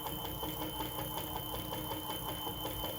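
A Bafang BBS02 mid-drive conversion motor on an e-bike runs steadily without riding, a continuous mechanical whir with a faint high whine, close and unbroken.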